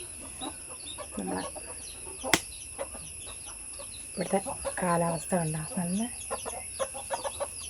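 Chickens let out into an open yard cluck and squabble at close range in repeated bursts, while a person speaks over them and a steady electronic whine runs underneath.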